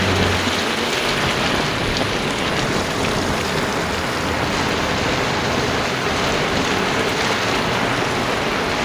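Heavy monsoon rain pours down steadily in Mumbai, a dense, loud and continuous hiss of drops hitting the ground and surfaces for the whole stretch, with no voices.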